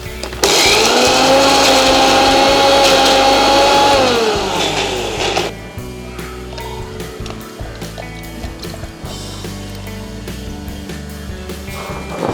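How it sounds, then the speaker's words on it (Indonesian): A blender grinds chili peppers into paste for mushroom rendang, a loud steady motor whir with a whining pitch lasting about four seconds, then cutting off into quieter clatter and handling noises. "jadi sekarang gua lanjut blender cabenya"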